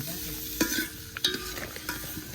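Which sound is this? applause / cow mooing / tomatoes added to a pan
tomatoes added to a pan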